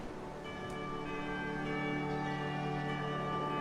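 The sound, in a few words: clamor of bells, from an audio story's soundscape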